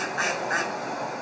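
Ducks on the Dronne river at Brantôme in the Dordogne give two quick quacks, close and clear against a soft outdoor background hush.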